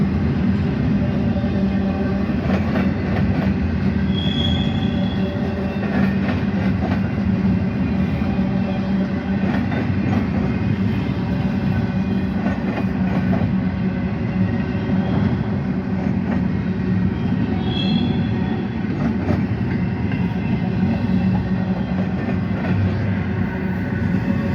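A CSX freight train with a DPU locomotive rolls past close by in a neighborhood, a continuous loud rumble of wheels and cars with rhythmic clicking over rail joints and a brief high squeal.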